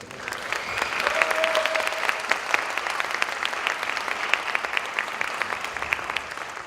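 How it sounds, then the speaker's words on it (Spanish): Steady audience applause fills a large hall at a film screening at Centro Cultural Carranza, welcoming director César García; dense, even clapping from many hands with a brief faint tone under it, no talk. "pido un fuerte aplauso a César García"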